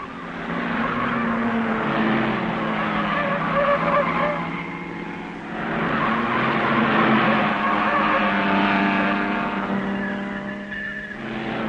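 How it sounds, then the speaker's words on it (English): Mercedes and Jaguar racing cars in a motor race, loud engines rising and falling as they pass, with two surges of roaring, sweeping engine note and some tyre noise. "Fangio and Moss make more use of their air brake than the other Mercedes drivers"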